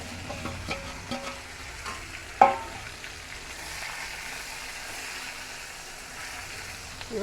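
Sliced pointed gourd (potol) frying in hot oil with slit green chillies, a steady sizzle with stirring scrapes and one sharp clack of a utensil, close and continuous, with no voices.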